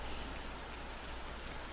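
Rain in the indie visual novel game Deluge, a faint, steady, even patter of falling rain with no voices over it.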